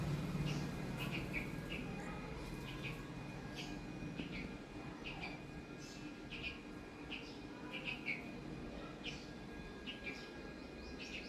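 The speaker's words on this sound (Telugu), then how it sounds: "ఇవి 2 నైవేద్యం తినే పిట్టలు కొంచెం పెద్ద సైజులో ఉన్నాయి ఈరోజు." Birds feeding on temple food offerings chirp in brief, repeated calls at moderate distance over a quiet background hum.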